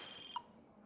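Phone ringing in the video game Life is Strange, a bright electronic ringtone that cuts off abruptly after a short burst and leaves quiet behind it.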